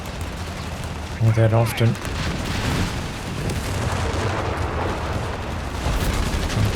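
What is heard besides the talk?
Obice howitzer barrage firing in video game Company of Heroes 3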